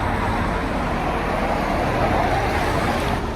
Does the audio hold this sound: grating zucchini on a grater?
no